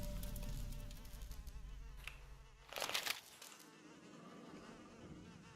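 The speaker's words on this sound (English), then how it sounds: "Or flies, rather." Flies buzzing in the Fallout New Vegas video game, a steady droning insect hum with a brief louder burst midway, heard alone without talk.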